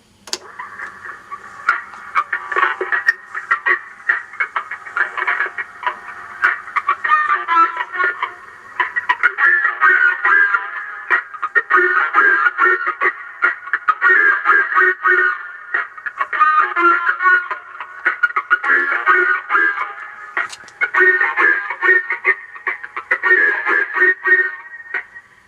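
Music plays through a vintage Mayfair TR-65 rim-drive reel-to-reel tape recorder, thin and midrange-heavy with a distorted, boxy tone and a pulsing beat, steady and fairly loud with no voices.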